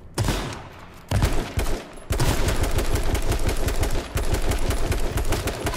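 Sustained automatic gunfire from the H1Z1 battle royale game rattles in dense rapid bursts. Brief pauses break the firing before it resumes as a long continuous stream, loud and close.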